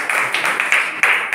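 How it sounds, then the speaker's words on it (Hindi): Students in a primary school classroom clap for their classmates, with a brief run of close, sharp hand claps in an uneven rhythm over about a second. "चलिए इनके लिए ताली।"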